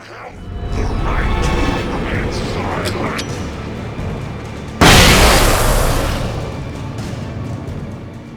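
A flash grenade goes off in Alan Wake with one sudden, loud, hissing blast that rolls off over a few seconds, following a stretch of murky ambience and speech.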